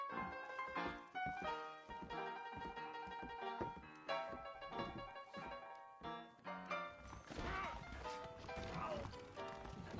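Horse hooves clip-clop in the Western video game Red Dead Redemption as riders set out from a town, the steady thuds running beneath a loud orchestral score with voices.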